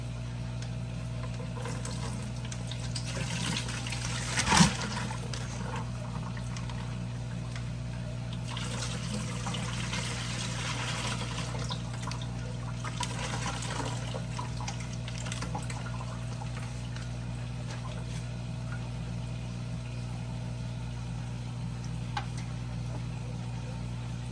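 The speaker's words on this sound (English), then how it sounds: "let me start pouring these guys out so we can add them to the tank" Live fish and water poured into an aquarium tank, a faint ongoing trickle and splash over a steady low mechanical hum, with one brief louder splash early on and no voices.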